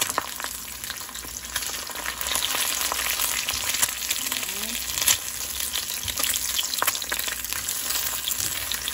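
An egg fries in a pan with garlic powder, giving a steady hissing sizzle with occasional crackles and pops, close and continuous.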